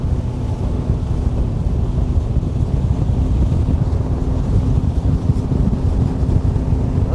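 Steady wind buffeting a microphone aboard a fishing boat on Lake Guntersville, a continuous low roar with a faint hum of motor and light water chop, no voices.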